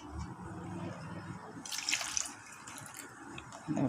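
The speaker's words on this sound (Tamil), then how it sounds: "தண்ணி 1 கப்பு ஊற்றிக்கோ." Water is poured into a flour and coconut milk batter in a bowl, a short close splashing pour that swells midway and then tapers off, with no talking.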